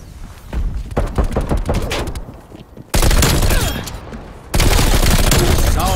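Loud, rapid bursts of gunfire in Call of Duty Black Ops Cold War multiplayer, dense automatic fire with sharp booming cracks that cut in abruptly, separated by brief quieter gaps.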